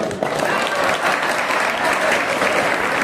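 An audience at a skill convocation ceremony at a government industrial training institute in Nagpur claps loudly and steadily, a dense wash of applause filling the whole moment.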